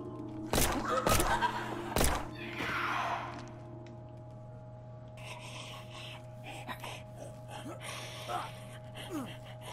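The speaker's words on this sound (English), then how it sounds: "Why do I still hear the struggle sound effect?" Skyhill: Black Mist game struggle effect: sharp thumps and gasping breaths, then ongoing rubbing and scraping scuffles over a low constant hum.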